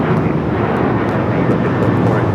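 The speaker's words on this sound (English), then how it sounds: "This is Alaska Airlines 437 taking off to Puerto Vallarta on the 737-900 ER" Alaska Airlines Boeing 737-900ER taking off at LAX, a loud, close, continuous engine roar with dense low rumble and steady intensity across the short stretch.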